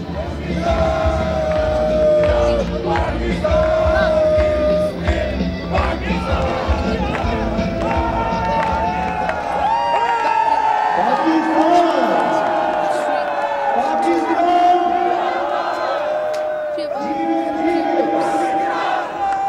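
A packed stadium crowd at a Pakistan Super League cricket match between Lahore and Islamabad roars, chants and cheers continuously while commentators talk over it.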